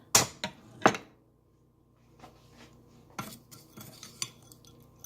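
A metal spoon knocking against a pot while palm sugar goes in for chicken biryani (khao mok gai) in an electric cooker, with a few sharp clinks early on and then lighter scattered taps after a brief pause.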